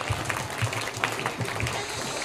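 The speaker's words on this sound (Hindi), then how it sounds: "सही जवाब। तालियां।" A crowd of schoolchildren claps for a correct answer at an Islamic quiz competition, a dense sustained patter of applause that carries on steadily without a break.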